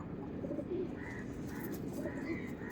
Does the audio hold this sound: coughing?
no